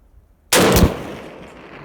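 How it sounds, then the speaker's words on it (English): A single loud gunshot from a PSA AK-P 7.62x39 pistol fired at a target, a sharp close crack after a quiet moment, followed by a ringing, slowly fading echo. "I think I'm shooting a little high."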